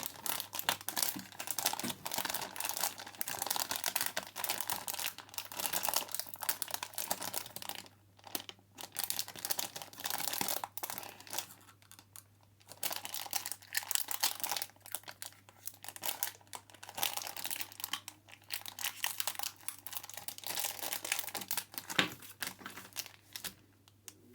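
Minecraft Legends figure packaging being torn open and crumpled, a steady stream of close crinkling, ripping and rustling plastic and foil with brief pauses, no talking.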